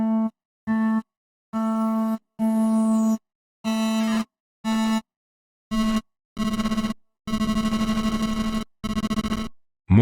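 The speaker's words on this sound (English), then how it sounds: "More like a bit crush distortion." A sampled guitar from a Kontakt library is run through lo-fi bit-crush distortion, producing a series of short, harsh, buzzy notes separated by silent gaps, with the later notes growing longer, grittier and noisier.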